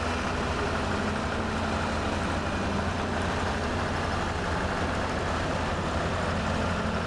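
Steady low diesel drone of a Tatra truck engine in SnowRunner, a continuous loud rumble idling or running without break, with no voices.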